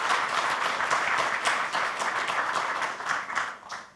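An audience applauds a speaker at an education event, brisk steady clapping from a roomful of people, close and lively, easing off at the end.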